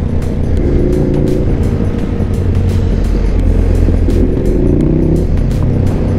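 Ducati Scrambler motorcycle engine running steadily and loudly nearby on a summit ride, a continuous low drone with rising pitch sweeps around the first and fifth seconds, no talking.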